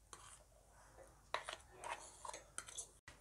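Soaked oats and mashed banana being mixed in a bowl, a spoon scraping and clinking against the sides in several soft, irregular strokes at close range.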